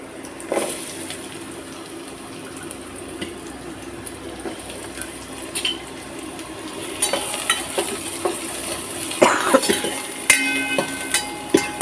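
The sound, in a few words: onion frying and being stirred in pan for chicken soup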